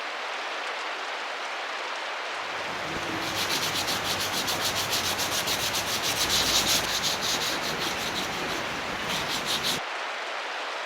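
A live edge wooden table, stained in three coats with 320 grit used between coats, is sanded in a steady, close, hissing rub that lasts about seven seconds between quieter stretches.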